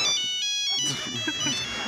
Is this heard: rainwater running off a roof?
no